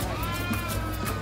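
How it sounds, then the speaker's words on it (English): Goats at a goat market in Hausa land, Nigeria, with a bleat or two rising over steady low crowd and market hubbub, fairly close and continuous. "This is goat market. Goat market, it smells like goat market."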